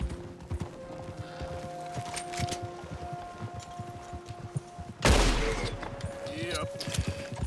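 Gunfire in Red Dead Redemption 2 during horse-cart play: a loud sharp shot bursts out near the end over a background of hoof clip-clops and game noise, and a voice talks across the clip.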